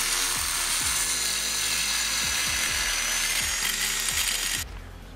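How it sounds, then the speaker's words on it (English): A power drill whines steadily at close range, drilling a hole through a Scion FR-S car part for a cold air intake, grinding with periodic catches, then cuts off abruptly near the end. "So I'm just gonna go ahead and drill a hole right here"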